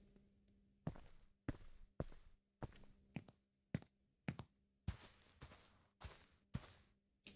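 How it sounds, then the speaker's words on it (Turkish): Footsteps of a game character in an Unreal Engine 5 demo, a steady walking rhythm of about a dozen distinct close, sharp impacts on a surface, with no talk over them. "duyduğunuz gibi bu videoda footsteps yani karakterin ayak seslerini bastığı yeri dinamik olarak algılayan bir sistem kurup ona göre ayak sesini oynatacak"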